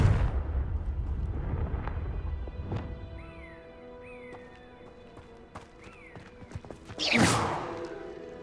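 A Confringo blasting spell from the Hogwarts Legacy video game bursts as a single loud, broad explosive whoosh near the end, after quieter magical chimes and ambient game sounds.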